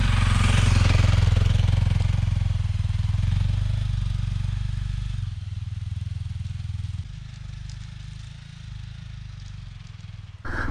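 A Honda CRF dual-sport motorcycle engine revs hard with the clutch slipping, then drops to a lower, pulsing rumble, with engine speed shifting up and down close by on a snowy logging road.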